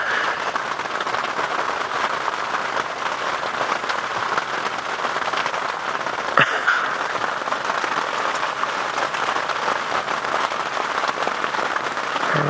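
Steady, dense patter of rain falling on a surface, a constant hiss throughout with one brief faint knock partway through.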